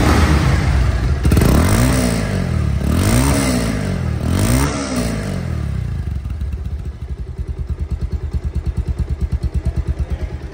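A Bajaj Pulsar DD motorcycle with about 3,600 km on it, in showroom condition, is revved hard several times in loud rising and falling bursts, then settles into a close, rapid, throbbing idle.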